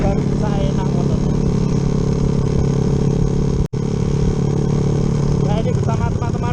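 A Yamaha Jupiter MX motorcycle fitted with a 72 mm piston runs with a steady, loud, close engine drone and mechanical clatter, briefly cut out once midway, while people talk over it.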